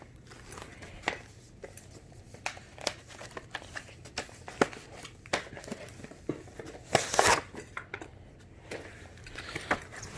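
Plastic packaging on a new BubbaRope tow rope is crinkled and torn while a sheath is pulled off by hand, making scattered close crackles and sharp tearing bursts with one louder rip near the middle.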